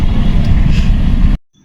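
A car being driven gives a loud, steady low engine and road rumble that runs close for over a second, then cuts off abruptly into near silence.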